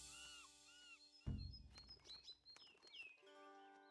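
A messenger bird in the Sons of Valhalla video game chirps in a short series of high, clear tweets, loud and close, heard alone with no talking over it after a sudden low thump.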